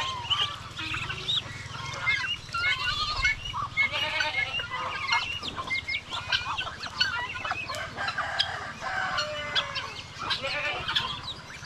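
A flock of chickens and turkeys on a Filipino farm clucks and calls continuously, overlapping squawks and chatter close to the microphone with a low steady hum beneath.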